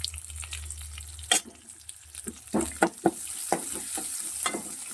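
Small onions with garlic and dried chillies fry in oil for a turkey berry relish, giving sharp bursts of crackling and sizzling with stirring scrapes between them, after a short low hum at the start.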